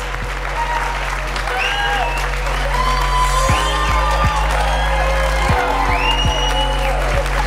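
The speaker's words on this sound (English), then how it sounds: "You get a round of applause." Loud applause at an awards salute to women in trucking, close and sustained. Scattered whoops and voices sit over the clapping, and a steady low electrical hum runs underneath throughout.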